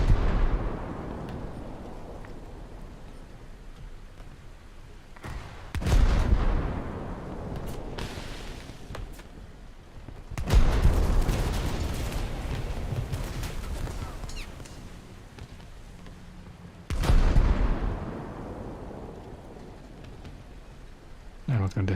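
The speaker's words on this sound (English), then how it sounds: "We've got the first person already shooting at us." Naval gunfire booms from a naval video game set on the German coast, with several heavy deep blasts spaced seconds apart, each trailing off into a long rumbling roar, all loud and close.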